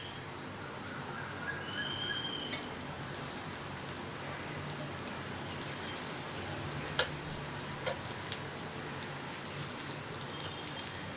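Ghee and oil sizzle steadily on a mung bean dosa (pesarattu) frying on a pan, a continuous soft crackling hiss with occasional sharper pops.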